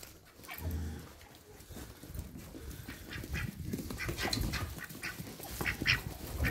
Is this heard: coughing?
no